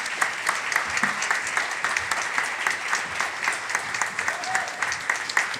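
An audience at the Queer académie 2025 final applauds on stage, a long, loud, steady stretch of many people clapping with faint voices underneath.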